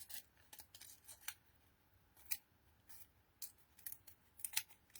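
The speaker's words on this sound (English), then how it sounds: "find my scissors and we will snip into this" Scissors snip through card while a wedding invitation is being made, a string of short, crisp cuts at an irregular pace, close and fairly quiet, with no talking.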